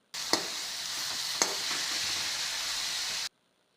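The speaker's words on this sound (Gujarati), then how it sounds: "એમાં ટીંડોળા બટાકાને તેલમાં ફ્રાય કરી દેવાના છે" Ivy gourd and potato pieces fry in hot oil with cumin, making a loud, continuous sizzle close by. Two sharp utensil clicks mark stirring before the sizzle cuts off abruptly near the end.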